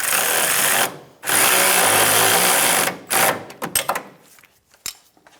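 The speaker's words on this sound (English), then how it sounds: "Using a 9/16 wrench and a 14mm socket, we're going to snug down this nut." Ratcheting or powered tightening of a nut with a 9/16 wrench and 14mm socket while installing an air suspension helper spring kit on a 2005-2015 Toyota Tacoma; loud sustained mechanical whirring runs in two long bursts, then short clicks and taps.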